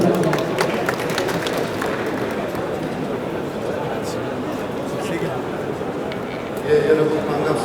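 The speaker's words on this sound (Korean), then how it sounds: "다시 한번 박수로 환영해 주시기 바랍니다" Audience applause at the opening ceremony of an electric power technology exhibition welcoming a speaker to the stage, a continuous broad roar of clapping from a large crowd, steady throughout with a slight swell near the end.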